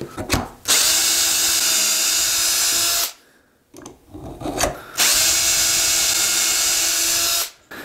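A power drill bores dowel holes through a Dowel Wizard jig in two long, loud, high-pitched whining runs, separated by a short quiet gap with small handling knocks.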